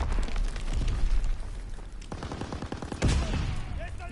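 Gunfire from a player shooting at enemies in a WW2 multiplayer game, rapid rattling shots and booming impacts, loud and close, with a quick automatic burst near the end.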